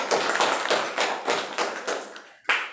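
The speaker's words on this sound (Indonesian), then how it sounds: "Tepuk tangan buat Frida dong." A classroom gives a round of clapping for a student: a series of about six short, fairly loud bursts of applause from a small group, each dying away before the next, with no talk over it.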